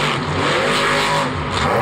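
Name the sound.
monster truck engine roaring with MagnaFlow header collectors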